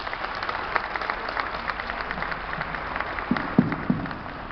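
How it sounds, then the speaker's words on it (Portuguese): Applause for the environment secretary at a waste pickers' environmental conference in Rio de Janeiro, a steady wash of clapping from the audience with a few sharper nearby claps near the end. "Aí receba todos uma salva de palmas para o nosso secretário do Meio Ambiente"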